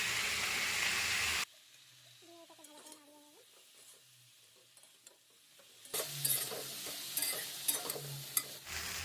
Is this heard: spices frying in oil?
yes